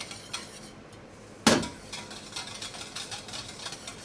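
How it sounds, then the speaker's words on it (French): Spoon or whisk scraping the sides of a bowl while mixing milk into egg yolks and sugar, with one sharp clink against the rim, then repeated soft scrapes and stirring, close and fairly quiet. "on vient bien racler les bords."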